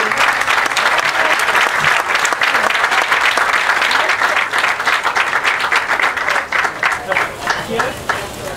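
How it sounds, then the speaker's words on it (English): Crowd applauding Special Olympics athletes at an outdoor law enforcement torch run finish, a dense, loud burst of clapping that holds steady and then thins into sparser, distinct claps toward the end. "another round of applause for our amazing athletes"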